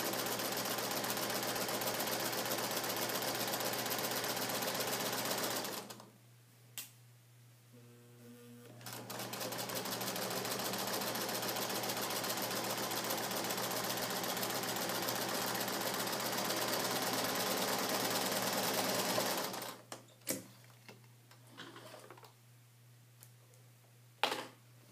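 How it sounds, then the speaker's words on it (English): A sewing machine stitching through underlining fabric, a loud, steady, fast mechanical whirr running for several seconds, pausing briefly, then resuming before stopping with a few clicks. "So as you can see, I've just stitched there."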